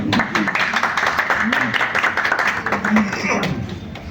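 Applause at a press conference in Lahore as the executive producer is welcomed: steady, dense clapping from a seated audience filling the whole stretch, with a voice faintly audible over it.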